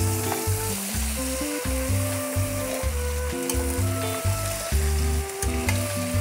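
Crabs fry in a pan for Thai curry crab, giving a loud, steady sizzle with stirring and scraping heard close up and no voices.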